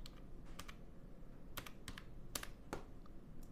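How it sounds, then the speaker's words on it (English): Fingers type a password on a computer keyboard in a quiet room, making faint, irregular key clicks with a few sharper taps over a low background hum. "So I'm typing your password."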